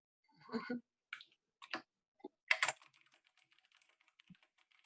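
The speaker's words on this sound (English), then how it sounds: "Sorry for my loud typing." Keyboard typing in a few quick clustered bursts, then lighter scattered key taps trailing off; close and fairly loud, no voices.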